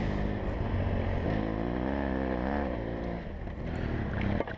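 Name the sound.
motorcycle revving hard up a hill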